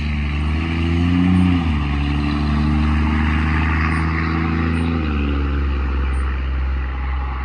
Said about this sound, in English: I'll let the extra loud truck go by.